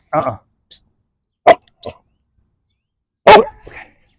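A dog barks on a walk in a few sharp, separate bursts, with quieter short yips between them, close and loud.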